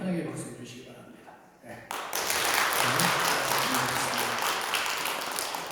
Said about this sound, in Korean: 인사할 때 우리 환영의 박수 해주시기 바랍니다